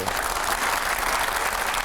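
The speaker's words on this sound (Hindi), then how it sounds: "तो एक बार जोरदार तालियां हो जाए।" Studio audience at a TV9 televised interview event breaks into steady, dense applause, a continuous wash of clapping held at even loudness throughout with no talk over it.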